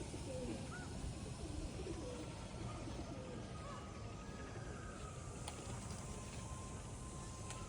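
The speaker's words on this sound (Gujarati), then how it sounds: "સાંજનો સમય થઈ ગયો છે પક્ષીઓ એમના માળામાં જઈ રહ્યા છે" Faint bird calls at dusk, including a few soft coos, scattered over a steady wash of outdoor background noise.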